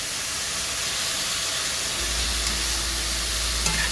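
Beef bulgogi sizzles loudly and steadily in a hot pan, a dense frying hiss with the meat being stirred and flipped partway through, no voices.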